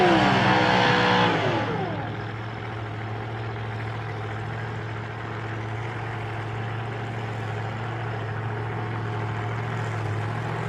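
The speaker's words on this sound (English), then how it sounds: "Timmy Stewart out here in the Stang running a 628 cubic inch Chevrolet engine." Mustang drag car with a 628 cubic inch Chevrolet engine, heard in the pits at a nostalgia drag racing event: a brief loud rev, then a deep, steady, loping idle rumbling close by.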